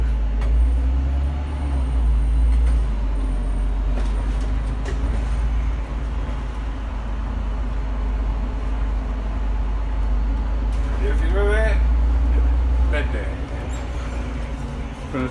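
A car with a start-stop system pulls away again after a stop, its steady low engine and road rumble filling the cabin, while someone talks throughout.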